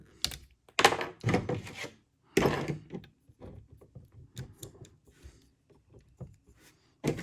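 Plastic clicks and thunks of a toy gun being plugged onto the arm of a Transformers MPM-10 Starscream figure, a series of close, sharp knocks and snaps spread across several seconds.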